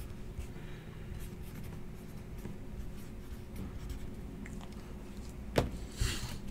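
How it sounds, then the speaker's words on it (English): A pen scratches steadily across paper in a quiet room, writing continuously for several seconds and ending with a couple of sharper strokes. No one speaks. "So let me write that down. Write that down for my sorters."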